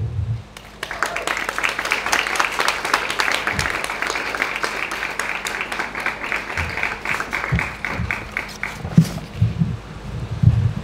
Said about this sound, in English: please give a round of applause to Lupe